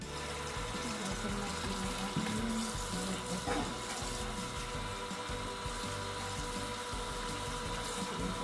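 Tap water runs steadily while ingredients for satay beef noodles are washed under it in a kitchen sink, a continuous close splashing rush that lasts throughout with no talk.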